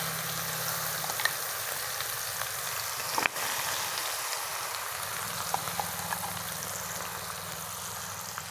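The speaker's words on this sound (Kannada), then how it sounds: "ಈಗ ನಾನು ರುಬ್ಬಿರೋವಂಥ ಚಟ್ನಿನ ಸೇರಿಸ್ತಾ ಇದ್ದೀನಿ ಒಗ್ಗರಣೆಗೆ." Ground onion and chili chutney hitting a hot tempering in a pan, a dense, even sizzle and crackle at close range that continues throughout with one sharp pop partway through, and no voices.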